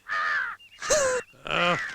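Three loud, harsh crow caws in a row, each about half a second long with short gaps, close by and with no other sound.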